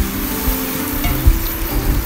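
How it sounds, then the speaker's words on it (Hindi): Spices including salt, red chilli, coriander powder, cumin, turmeric and cinnamon sticks fry in a pan for chicken korma, a loud close continuous sizzle with occasional stirring scrapes and knocks and no voices. "इन सब चीज़ों को अच्छे तरीके से हम मिक्स करेंगे।"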